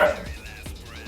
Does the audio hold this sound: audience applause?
no